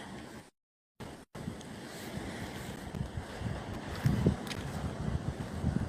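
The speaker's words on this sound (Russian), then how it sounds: "с побережья Черного моря Болгарии" Steady surf and wind rush on the Black Sea shore at Sunny Beach, Bulgaria, a continuous close wash of waves with microphone wind buffeting, briefly cut by two short dropouts near the start.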